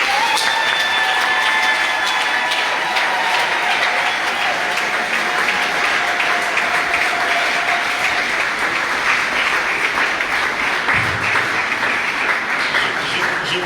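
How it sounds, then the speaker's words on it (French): Sustained audience applause at an NGO ceremony honoring the president of Initiative Plus, a thick wash of clapping with faint cheering and a brief tonal whine early on, continuing steadily without speech. "Je pensais qu'on allait applaudir mieux que ça."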